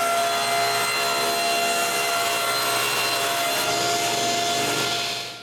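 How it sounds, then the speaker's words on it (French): A wooden panel being cut to length with a hand saw for a hand-tool rack, steady continuous rasping strokes that stay close and loud throughout with no talking. "Je coupe donc mon panneau un peu plus long."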